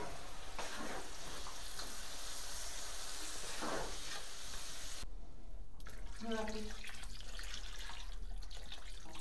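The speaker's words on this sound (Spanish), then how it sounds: "añadimos el agua hasta cubrir" Water pours into a pan of rice with free-range chicken, artichokes and broad beans, a steady hissing, splashing rush close by with a faint sizzle and brief gaps.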